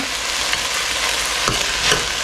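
Vegetables being sautéed and stirred in a pan for white veg kurma, a steady close sizzle with scraping stir strokes throughout, no talking.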